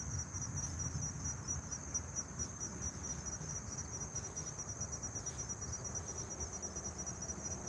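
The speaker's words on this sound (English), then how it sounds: "The squeaking is crickets." Crickets squeak outdoors at night beside a fishing spot with a steady, dense, high-pitched chirring that continues without a break, and a low background rumble sits beneath it.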